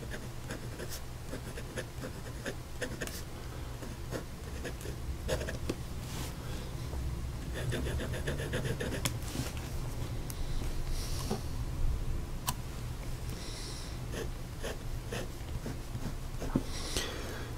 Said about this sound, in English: let's put nib to paper